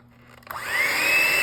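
An electric mixer starting up in chocolate marshmallow cookie batter with eggs, its whine rising after a short quiet lead-in and then running steadily and loudly.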